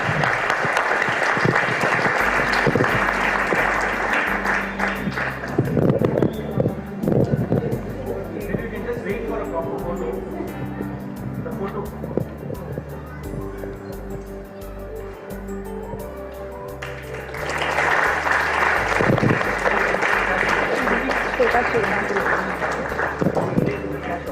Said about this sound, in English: Please give up a huge round of applause.